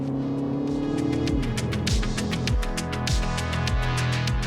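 A Mini Cooper S with a 2-litre four-cylinder engine revs hard on a race track, climbing through repeated gear changes in a loud, close, rising-and-dropping pattern with no talk over it.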